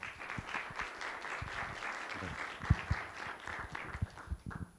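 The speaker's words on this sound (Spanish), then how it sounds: "vamos a recibirlo con un fuerte aplauso" An audience applauds steadily to welcome a guest speaker at a talk on hazardous waste management in Mexico, sustained clapping with a few sharper claps standing out near the end.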